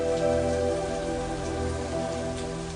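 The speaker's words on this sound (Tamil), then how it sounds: "மழை இப்போதைக்கு நிக்காது போல இருக்கு." Steady rain falls and patters on surfaces in a continuous, even wash of sound, loud and close with no talking over it.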